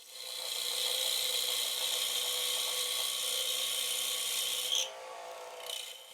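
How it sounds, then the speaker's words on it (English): Easy Wood Tools rougher cutting a wooden bowl on a lathe, a steady close scraping hiss that runs for several seconds and then stops abruptly, leaving quieter lathe noise. "We continue using the easy rougher while we define the rim of the bowl."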